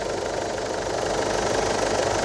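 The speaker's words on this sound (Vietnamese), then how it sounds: "Máy dầu của Ford Everest thì không chê vào đâu được các bạn ạ. Đó, máy nổ cực giòn, toàn tiếng quen, không hề có tiếng lạ thế nào luôn." A 2009 Ford Ranger's 2.5 L turbo diesel Duratorq engine, longitudinally mounted in an automatic rear-drive pickup, idles close up with a steady, crisp diesel clatter and fine knocking rhythm, alone with no talk.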